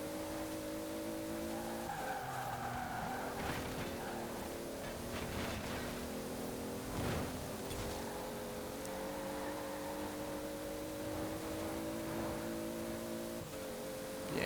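A 1992 Toyota Supra 2.0 GT twin turbo fitted with a wide body kit screams along at top speed in Forza Horizon 4, its engine holding a steady high drone in sixth gear, with gear shifts and brief tyre squeal; no talking.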